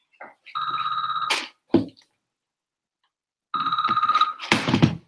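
A telephone rings indoors: two loud, close bursts of electronic ringing with a pause between them, each broken by short thumps and rustling, and no talking.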